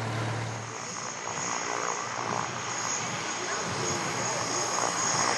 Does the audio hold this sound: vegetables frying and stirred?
no